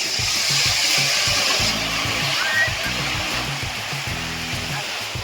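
Sea waves wash steadily onto a Konkan beach at Harihareshwar, a broad continuous surf roar with a voice or tonal sounds intermittently over it.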